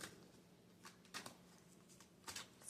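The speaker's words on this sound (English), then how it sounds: "Shuffle again." Tarot cards are shuffled quietly in a few soft riffling bursts with pauses between, faint and close, with no talking.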